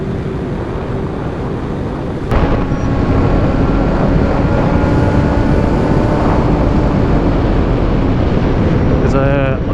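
Loud, dense roaring wind buffets a motorcycle rider's helmet at 140 mph, a constant rush that steps up even louder after a couple of seconds and holds steady throughout.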